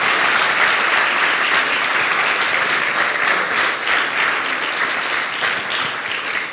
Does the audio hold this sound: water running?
no